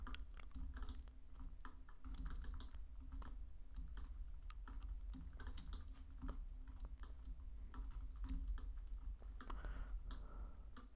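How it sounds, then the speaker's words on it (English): Fast, close keyboard typing clatters steadily from a gamer playing Roblox, with irregular key clicks over a low constant hum and no talking. "If you guys hear the keyboard."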